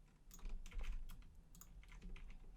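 Computer keyboard keys clack in quick irregular bursts as a user copies and pastes code, close and fairly crisp with no speech.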